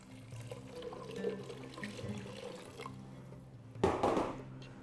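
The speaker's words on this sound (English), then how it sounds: "Add the water" Water poured into a pot while making Moroccan beef harira, a steady close splashing stream with a brief louder surge of pouring near the end.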